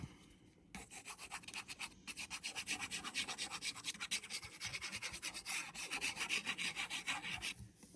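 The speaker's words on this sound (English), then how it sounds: "my arm just made like a strange sound there. Well, more like my sleeve" A fabric sleeve rubs and scrapes across paper during paper crafting, a quiet, continuous rasping with rhythmic back-and-forth strokes that grow slightly busier toward the end.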